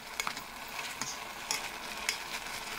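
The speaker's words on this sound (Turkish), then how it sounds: "Gördüğünüz gibi önce ısınmış olan tenceremizi etleri aldıktan sonra kısa bir süre sonra rengi dönüyor ve suyunu bırakıyor." Beef sizzling and frying in a heated pot as it browns and releases its juices, a steady close crackle with scattered sharp pops and ticks, no voices.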